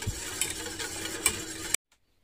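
Crumbled baker's yeast is whisked into a mixture, giving quick irregular scraping and clicking strokes at close range for under two seconds before abrupt silence.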